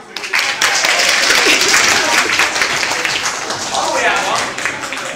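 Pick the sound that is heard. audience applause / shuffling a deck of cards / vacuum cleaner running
audience applause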